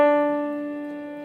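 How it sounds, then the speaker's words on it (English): One sustained piano note, the D above middle C, rings alone and slowly fades. "This is the D right above middle C, and it sounds like this."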